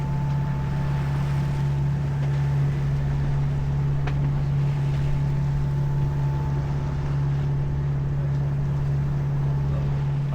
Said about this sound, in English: We're motor sailing now because the winds aren't strong enough to sail without a little bit of help from the engine